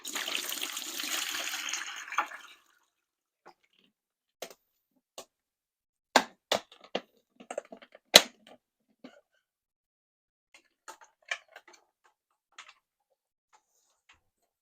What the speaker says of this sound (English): Pour some of the water out.